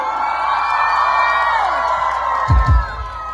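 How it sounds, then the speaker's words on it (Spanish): A crowd cheers and shouts at a live music tribute concert in Jaén, a sustained wash of voices with a burst of louder whoops near the end. "Un fuerte grito para Kevin hasta el cielo."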